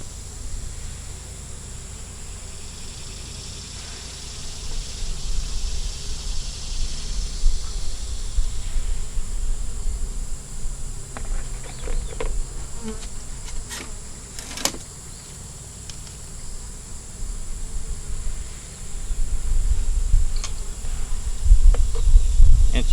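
A steady, close buzzing of many honey bees hums throughout, with a few sharper passes and a low rumble growing toward the end.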